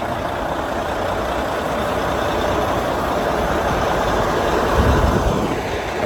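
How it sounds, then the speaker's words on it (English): A repaired vehicle engine idles while warming up, a loud, steady, dense rumble close by that holds even throughout with one brief swell near the end and no voices. "Waiting for the engine warm up a little bit."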